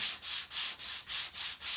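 Sandpaper rubbed back and forth over a small handmade gingerbread-figure craft piece from a mug kit, six quick even strokes in a steady rhythm, close and clear.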